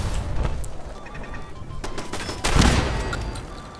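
Gunfire from the video game Fallout 4, a burst of rapid shots with a louder, heavier crash of fire near the end, steady and close over a busy game background.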